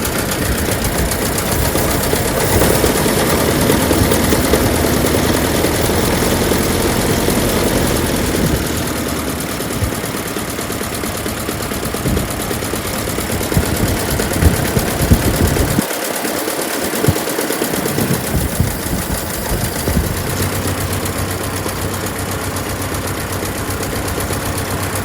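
A 1914 REO car engine idles steadily as it warms up, a continuous loud mechanical drone with a faint knocking rhythm that holds throughout, with no talking over it.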